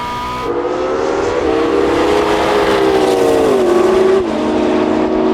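A LaFerrari, Porsche 918 and McLaren P1 race flat out, their engines blending into one loud continuous roar whose pitch climbs and drops at gear changes, heard close from inside a car.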